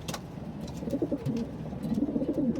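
Pigeons coo nearby in soft, throaty bursts that overlap and repeat in a loose rhythm, with a few brief rustling sounds at the start and no voices.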